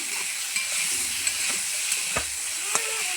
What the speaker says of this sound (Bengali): আর চলো পটলগুলোকে আমি এখানে ভেজে নিচ্ছি